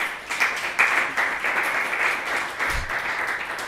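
Audience applause at a live stream event, a dense crowd of clapping hands swelling and fading in waves, fairly close and continuous.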